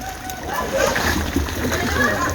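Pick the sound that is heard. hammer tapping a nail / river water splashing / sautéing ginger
river water splashing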